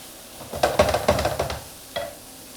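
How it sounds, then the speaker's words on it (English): Mushrooms for a bolognese ragu are stirred in a hot pan: a quick run of close scraping, clattering spoon strokes over a soft sizzle, then a pause and one more stroke, with no talking. "Stir them in."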